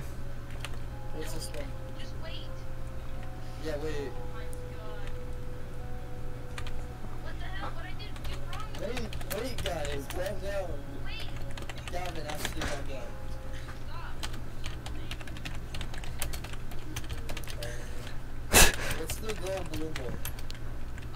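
Someone types quiz answers on a computer keyboard while playing a Roblox FNAF quiz game, with light, irregular key clicks in quick bursts under ongoing talking.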